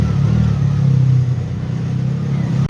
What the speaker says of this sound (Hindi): आवाज़ भाई बहुत ज़्यादा कर रहा है गाड़ी